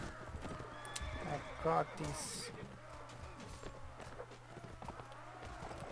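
Horses galloping and whinnying during a battle in the video game Mount & Blade Warband, rapid clip-clop hoofbeats with a sharp neigh, under a voice.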